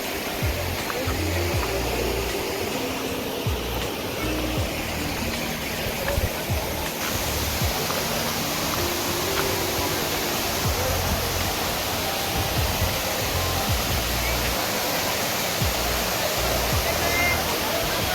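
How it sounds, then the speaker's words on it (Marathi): Steady, full-bodied roar of a waterfall at Darya Ghat in the Sahyadris pouring down, constant and close throughout with no breaks. "मग असा एकंदरीत हा धबधबा आहे"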